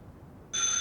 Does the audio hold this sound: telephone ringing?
yes